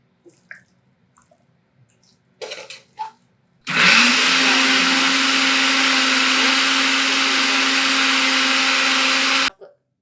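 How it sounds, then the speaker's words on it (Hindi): An electric chopper blends a homemade beef shami kabab mixture. A few soft clicks and clatters come first, then a loud, steady, close motor whir runs for about six seconds and stops abruptly, with no voices. "इसको हम डालेंगे चॉपर में।"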